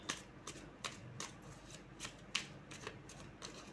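Tarot cards are shuffled by hand in quick, evenly spaced riffles, about eight soft, close bursts in a row with no talking over them.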